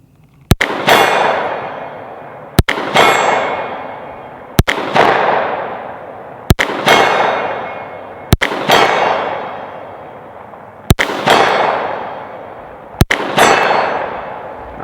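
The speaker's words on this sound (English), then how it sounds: "We'll try to hit the gong." A Kimber KDS9C 9mm pistol fires seven shots at a steel gong 80 yards away. Each sharp, loud report is followed by a ringing metallic clang that fades, at an even pace of about two seconds.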